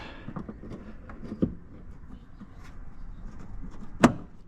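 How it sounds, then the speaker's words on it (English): Rear door of a Mini Cooper Clubman F54 swung shut by hand, ending in one sharp, close thud after a smaller knock earlier, against quiet workshop background. "pull the door in"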